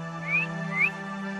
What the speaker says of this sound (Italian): Ma che cos'è? Cos'è sto fischio di merda?